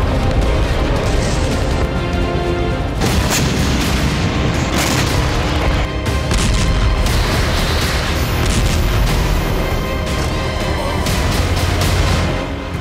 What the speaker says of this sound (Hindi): जहां जहां रशियन मिसाइलें गिरी वहां सब कुछ तहस नहस हो गया।